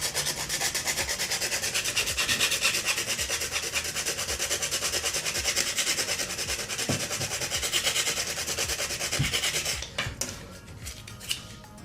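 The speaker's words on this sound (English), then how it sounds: "I'm going to do is just gently sand some of it away" The edge of a stormtrooper helmet ear is gently sanded by hand in fast, rhythmic back-and-forth rasping strokes, close and steady, with a couple of light knocks before the rubbing stops and it goes quiet.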